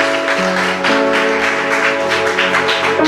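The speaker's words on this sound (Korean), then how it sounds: "박수하시겠습니다" A church congregation applauds during a Korean afternoon worship service, with loud, steady clapping over sustained organ or keyboard tones, heard close and continuous.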